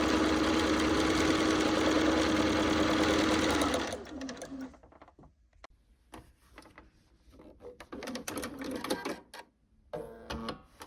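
A sewing machine stitches a quilt block seam, running steadily and loudly for about four seconds before stopping, followed by quieter scattered clicks and handling of fabric and tools.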